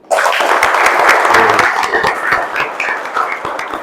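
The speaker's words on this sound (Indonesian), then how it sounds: "tepuk tunggal, tepuk ganda, tepuk 1000" A classroom group claps together in a clapping game, a loud, dense burst of many hands that starts sharply and gradually thins over about four seconds.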